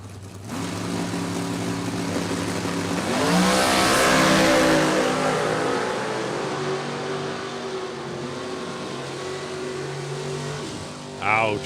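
Drag racing cars, a pro stock style Cobalt against a 67 SLE Camaro, roar loudly down the strip with a rising engine howl that peaks and sustains, while an announcer talks over the racket.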